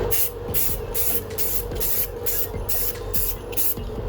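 Aerosol spray hisses in short repeated bursts, about eight quick sprays in a steady rhythm, close and fairly loud.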